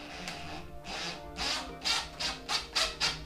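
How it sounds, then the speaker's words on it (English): A powerful power gun set to 10 foot-pounds drives a screw into a plastic airbox clip on a Volvo 745 Turbo, giving a series of rasping whirs that grow shorter and quicker toward the end, close and fairly quiet. "I'm gonna set this to 10 foot-pounds so I don't break anything, because this gun is pretty powerful"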